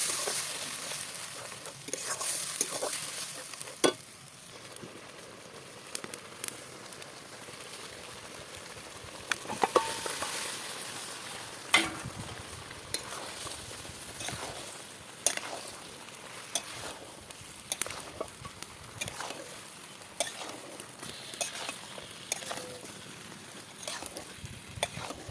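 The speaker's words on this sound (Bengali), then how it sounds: "পেঁয়াজটাকে একটু ভালো করে ভেজে নিলাম, দিয়ে এবারে সমস্ত মশলা যেগুলো বেটে রেখেছিলাম সেগুলো দিয়ে একটু ভালো করে কষিয়ে নেবো" Goat head curry with onion and ground spices sizzles gently in a pan while a spoon stirs it in scattered scrapes and taps, fairly quiet and close, with soft speech-like murmuring at times.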